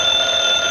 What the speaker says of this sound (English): I believe that's the phone